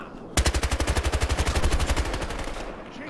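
Rapid automatic gunfire in the shooter game Battlefield Hardline, a loud sustained burst of about twenty evenly spaced shots lasting around two seconds, then a fading echo.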